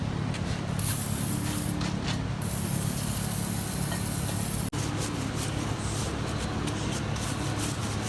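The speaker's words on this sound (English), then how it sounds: "This one we're going to degrease because it's just covered in filth" Degreaser sprayed onto a grimy 2002 Harley Davidson Sportster front fork, a continuous close hiss of aerosol spray with faint mechanical rattles, briefly cut near the middle and resuming.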